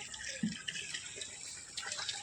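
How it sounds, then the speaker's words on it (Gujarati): Water runs from a tap into a container at home, a continuous splashing rush with a few brief clunks and small knocks, steady throughout the short stretch. "બધું પાણી ભરાય છે"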